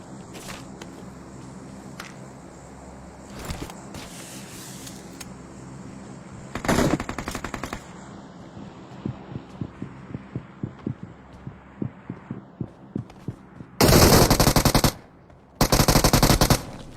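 Gunfire rings out in a shooting video game, with scattered single shots in the middle giving way to two loud, sustained bursts of automatic fire near the end over a low hum.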